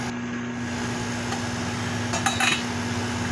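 A lid set on a cooking pot of laswa, a brief metallic clink near the end over a steady kitchen hum.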